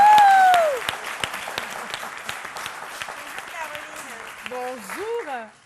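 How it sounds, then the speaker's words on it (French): A TV studio audience applauds as a guest arrives, a burst of clapping that begins loud and then thins into scattered claps beneath music and people talking. "on va l'applaudir très fort"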